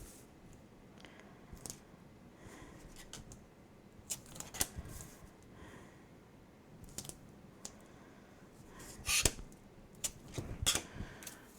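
Scissors cut out a paper piece edged with thick tape, giving quiet, intermittent snips and crisp crunching clicks spaced across a near-silent workspace, with a denser burst of cuts near the end.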